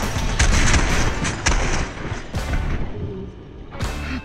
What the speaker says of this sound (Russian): Игрок бомбой убит